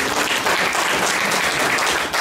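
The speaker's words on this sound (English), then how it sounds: "Let's give him a round of applause." Loud, dense audience applause at an investment conference in Ghana, a continuous wash of many hands clapping close by for the whole short stretch.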